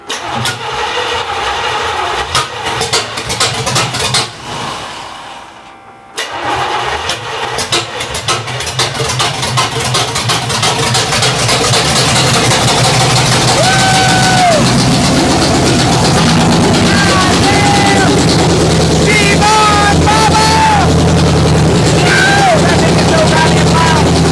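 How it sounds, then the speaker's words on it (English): Project car engine starting for the first time with no coolant in it, cranking, stumbling and cutting out, then firing into a loud, continuous, roaring idle that dominates, with voices speaking underneath. "Let's see if she wants to fire up."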